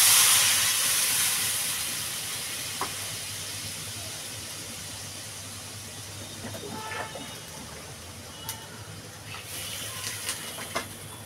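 Water poured onto sautéed taro (kochur mukhi) in a pan bursts into a loud hiss of steam that slowly fades to a steady simmering sizzle with occasional small pops.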